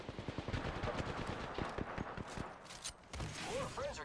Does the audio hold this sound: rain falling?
no